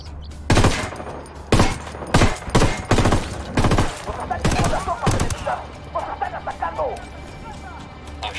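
Loud bursts of gunfire from the video game Ghost Recon Wildlands: several sharp volleys in quick succession, followed by quieter scattered shots and background chatter as people talk over the action.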